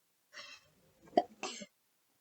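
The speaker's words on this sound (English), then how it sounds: "I'm going to sneeze." A single sneeze from a person with a congested, wheezy nose, preceded by a short breathy intake and followed by a second burst, close and fairly loud in an otherwise quiet room.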